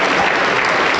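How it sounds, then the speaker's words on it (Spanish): Brief burst of congregational clapping inside a Pentecostal church, dense and steady for about a second. "Un aplauso para el Señor Jesús"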